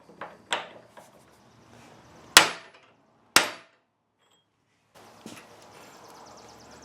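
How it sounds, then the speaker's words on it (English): Hammer striking a punch against a yoke, several sharp metallic taps spaced unevenly with quiet gaps between, close and clear with no talking. "you can take a hammer and a punch"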